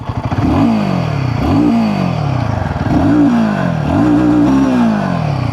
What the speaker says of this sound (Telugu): ఫ్రెండ్స్ ఒకసారి ఎగ్జాస్ట్ సౌండ్ వినండి